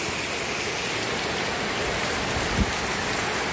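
Rain pours down in a dense, continuous hiss close by, steady throughout with only a faint bump near the end and no voices.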